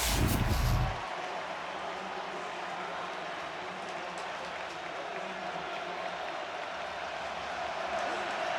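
Stadium crowd roaring at a Michigan at Washington college football game in 2024, a brief louder burst at the start settling into a dense, sustained wall of cheering and noise that swells slightly toward the end.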